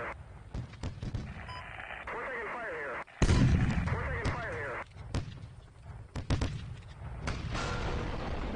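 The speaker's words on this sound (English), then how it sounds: "Okay, time for the artillery." Artillery fire in the Steel Beasts Pro PE tank simulation, one heavy boom standing out among scattered sharp shots, with radio-style chatter running underneath.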